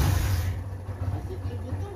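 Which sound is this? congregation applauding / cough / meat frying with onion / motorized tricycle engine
motorized tricycle engine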